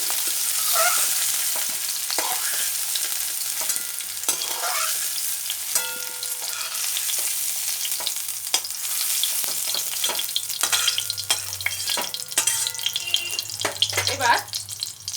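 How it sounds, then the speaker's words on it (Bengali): Young jackfruit pieces frying in oil for a Bengali vegetarian jackfruit curry, a steady close sizzle with stirring and scraping throughout, growing a little busier toward the end. "এটাও অল্প করে ভেজে নেব।"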